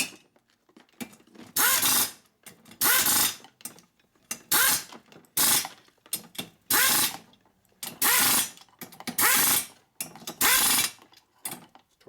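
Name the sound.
torque wrench tightening Harley shovelhead engine bolts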